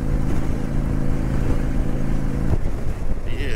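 A Honda Shadow Spirit 750 motorcycle rides along toward a dam, its engine a steady low rumble throughout with wind buffeting the microphone and a brief louder burst near the end.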